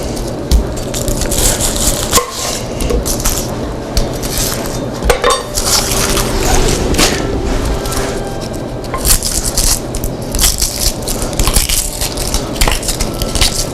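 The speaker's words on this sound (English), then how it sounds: "maybe I'll cut up an onion" A knife chops an onion on a cutting board in a home kitchen, with oil heating nearby. Steady crunchy cuts and knocks of the board come close and fairly loud, with a faint background hiss.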